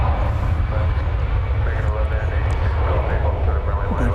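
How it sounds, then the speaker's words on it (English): Alaska Airlines Boeing 737 MAX 9 jet departing an airport, heard as a loud, continuous engine roar with a strong low rumble that holds steady throughout. "It's Alaska Flight 365, I believe. Going to Seattle, MAX 9."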